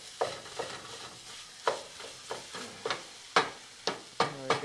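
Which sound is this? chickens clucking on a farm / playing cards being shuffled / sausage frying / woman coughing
sausage frying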